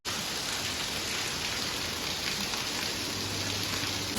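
Heavy rain pouring steadily, a dense, constant hiss close by with no break.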